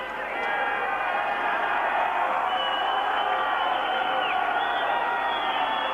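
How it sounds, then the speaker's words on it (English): A large stadium crowd at a 1994 World Cup qualifying football match between Latvia and Spain roars steadily, a dense wash of cheering and chanting that holds constant throughout. "the crowd certainly making plenty of noise and hoping they can lift their side"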